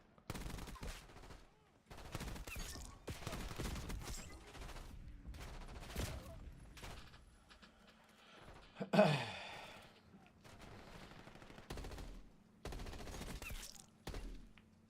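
Gunfire from a ranked PC shooter game against bots comes in repeated short bursts and volleys at a moderate level, with quiet gaps between them and occasional breathy vocal sounds.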